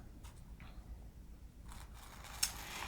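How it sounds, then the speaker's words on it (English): Scissors snip through fabric for wool applique, a few soft, close cuts with a faint crisp click near the end, quiet against low background noise. "Okay, I'm going to cut that off right"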